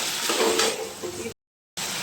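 Potatoes and garlic paste hit hot oil in a frying pan with a loud, bursting sizzle that settles into steady frying, briefly cutting out before resuming.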